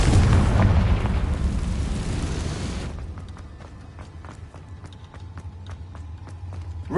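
Confringo fire-blast spell exploding in Hogwarts Legacy, a loud booming blast that rolls and fades over a few seconds and leaves quieter rhythmic thuds and clatter behind it.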